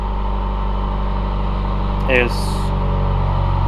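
A 2019 Subaru WRX with Nameless 4-inch muffler deletes idles with a deep, steady exhaust drone and low rumble, while a voice briefly speaks over it.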